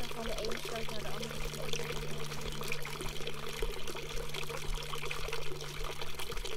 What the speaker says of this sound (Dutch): Dat die water van de ene sloot naar de andere sloot.